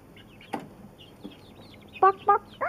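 Backyard chickens give a few soft clucks, then three loud, close, sharp squawking clucks in quick succession near the end.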